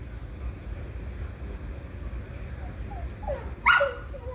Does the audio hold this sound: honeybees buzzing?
no